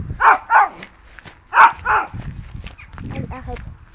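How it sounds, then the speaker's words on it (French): A female dog barks nearby in two quick pairs of sharp barks, followed by quieter scuffling and softer sounds. "C'est une chienne, elle est méchante."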